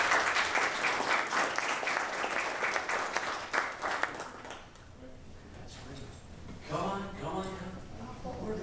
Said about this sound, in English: let's give them a round of applause on the way up